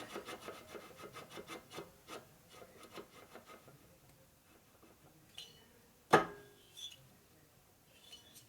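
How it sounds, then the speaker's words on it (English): Filing the chamfer on a 1990s Evo Sportster motorcycle engine case during big bore lower-end assembly: quiet, close rhythmic rasping strokes, tapering off, then a single sharp metallic clack followed by a few faint scrapes. "So I rub the chamfer off a little bit right here"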